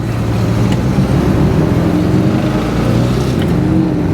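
Tri-Power 1966 Pontiac GTO with a four-speed, driven gently while still cold; a steady, close, rumbling V8 burble at low revs, continuous and fairly loud throughout.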